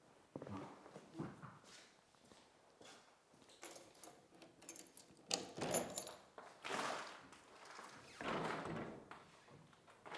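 Bifold doors on a renovated house are opened in stages, with irregular thuds, sliding rumbles, latch clunks and footsteps spread over ten seconds, fairly close and moderately loud with no talking.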